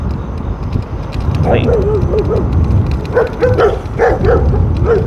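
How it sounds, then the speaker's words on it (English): Dogs bark and yip from a house along a nighttime street in Stockbridge, Georgia, several short calls rising over steady street noise and a low background rumble. "I forgot they had dogs over at that house until obviously just then."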